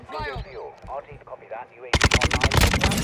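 Rapid rifle gunfire from the Kastov 762 in Modern Warfare 2, a loud burst of about a dozen close shots in the last second and a half, preceded by excited talk.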